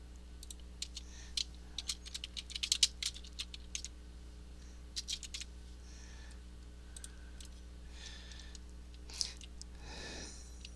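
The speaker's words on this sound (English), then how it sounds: "I'm just typing each clue and then hitting enter." Scattered bursts of computer keyboard typing with occasional Enter key presses, crisp close clicks spaced irregularly over a low steady hum.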